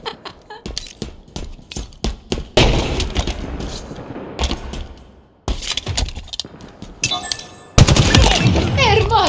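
Rapid bursts of automatic gunfire from Halo Infinite gameplay, loud and close, with dense rattling volleys broken by short pauses and a few sharp impacts and breaking-glass hits.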